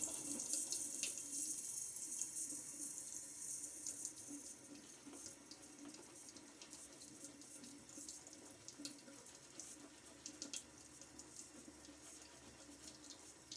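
Steady hiss of water running from a tap while a shaving brush is wetted, continuous and fairly quiet, easing slightly in level partway through, with no talking.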